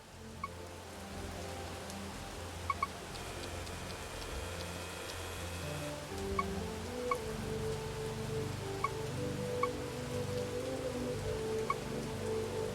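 Rain in the video game Bugsnax falls as a steady hiss with scattered ticking drops, close and constant, under a soft background tone with occasional chimes.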